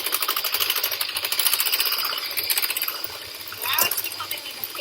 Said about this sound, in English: So now we're going to mix this up with the electric mixer again.